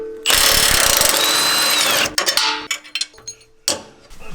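An impact wrench with a 21mm socket runs on the track bar bolt under a Jeep JL Wrangler. A loud, close burst of whirring hammering lasts about two seconds, followed by scattered metallic clanks and handling noise.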